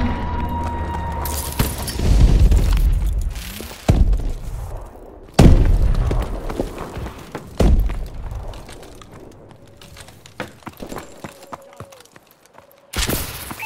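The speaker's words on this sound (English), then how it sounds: "Friendly missile strikes incoming." Missile strikes hit the ground in Call of Duty: Advanced Warfare, a run of heavy booming impacts spaced a couple of seconds apart, each with crackling debris trailing off, while weapon and game effects fill the gaps.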